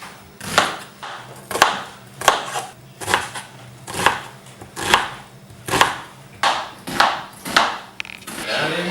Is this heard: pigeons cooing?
no